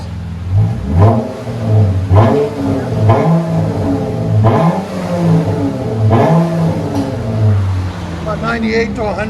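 A 2013 Chrysler 300 V6 with a Flowmaster Super 10 dual exhaust is revved repeatedly in about five rising-and-falling blips, loud and close, with brief talk between the revs.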